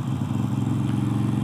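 Harley-Davidson Sportster 1200 motorcycle engine, Iron or Nightster model, with a loud, steady low rumble and a throbbing idle or cruise note, close and continuous.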